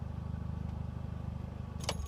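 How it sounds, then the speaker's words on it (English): A car engine idles with a steady low rumble, then a brief key jangle or click comes near the end as the engine is switched off. "I'm going to go ahead and turn the car off"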